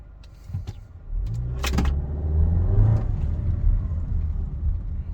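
The 2.0T engine of a 2021.5 VW Atlas with a pedal tuner, set in regular mode, rises from a low idle into a deeper, louder revving rumble. A brief sharp clunk sounds near the start of the climb.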